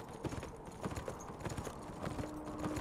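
Horse hooves clip-clop at a steady walking rhythm during a ride, close and clear over a low background, with a faint tonal sound near the end.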